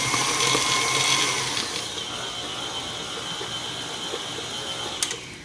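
A KitchenAid stand mixer whirs steadily as it blends fruit coffee cake batter, a continuous motor drone that drops slightly in pitch and level after the first second, with a brief clink near the end.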